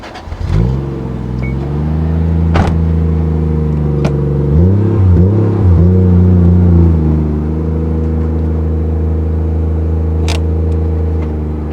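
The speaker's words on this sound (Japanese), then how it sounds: "じゃあ次マフラーサウンドいってみましょう" A Toyota Chaser Tourer V (JZX100, 1JZ engine) exhaust rumbles as the engine starts, briefly revs up and settles into a deep, steady idle, loud and close.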